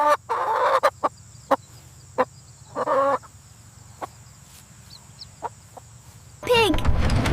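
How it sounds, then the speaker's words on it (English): A chicken gives scattered short clucks and a few squawky calls against a low steady background hum, ending in a louder burst of calls. "It's a chicken."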